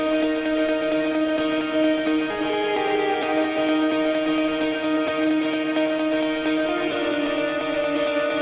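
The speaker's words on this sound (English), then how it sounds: "So I had this guitar loop, which sounds like this." Looping guitar phrase from a studio track, steady sustained tones with effects and reverb, played alone at moderate level without voices.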